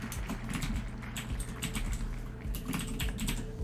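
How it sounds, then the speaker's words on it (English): Fast typing on a computer keyboard sits right in front of the microphone, giving loud, dense bursts of clicking keystrokes in irregular clusters with brief pauses, all on their own. "This is the problem with having your microphone in front of your keyboard."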